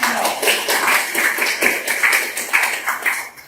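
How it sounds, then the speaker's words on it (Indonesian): Classroom applause for group 3 after their presentation: dense, fairly close clapping from a group, steady and irregular, tapering slightly toward the end. "Kita beri aplaus dulu kepada kelompok 3."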